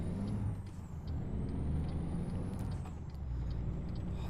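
Truck air brake and engine in American Truck Simulator: a steady low diesel rumble runs throughout, punctuated by short hissing air-brake bursts and a faint high whine drifting above.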